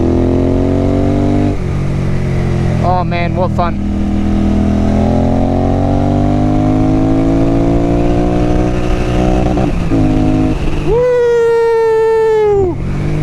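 Royal Enfield Continental GT 650 motorcycle on the move, its exhaust droning and rising through the gears with sharp revving bursts near the end, loud and close, with a rider talking briefly over it.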